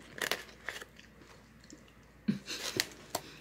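Close crunchy bites and chewing come from a person eating snack food from a Kernel crate, in two bursts separated by a quieter stretch of soft mastication.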